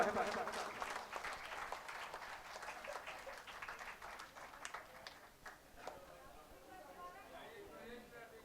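An auditorium crowd at a mushaira at a Gorakhpur inter college claps steadily and fairly loudly, then the applause thins and fades as a voice begins talking.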